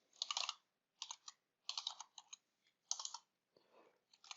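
Quick, close bursts of computer keyboard typing come in short clusters of clicks separated by brief pauses, with a few lighter taps near the end; no one speaks.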